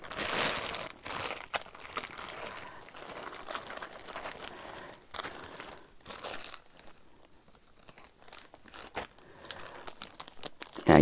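A plastic bag holding a Cesar company vinyl mask crinkles and rustles as hands handle it, close and fairly quiet, in irregular bursts of crumpling with brief pauses.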